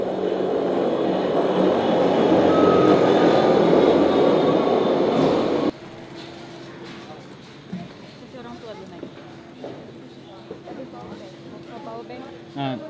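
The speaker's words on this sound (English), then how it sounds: "Let's wait for the train." A loud train rumbles and roars for several seconds, then cuts off abruptly, leaving quieter background with people talking.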